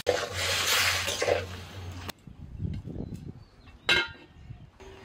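Water poured into a cooking pot of soybeans seasoned with salt, turmeric and red chilli powder makes a steady, fairly loud rushing splash for about two seconds, followed by a few faint clinks and soft kitchen handling noises.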